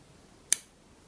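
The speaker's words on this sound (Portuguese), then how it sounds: "Podemos cortar esse fio." A single crisp snip of scissors cutting crochet yarn while a crochet placemat is being made, one short sharp click standing alone in a quiet room.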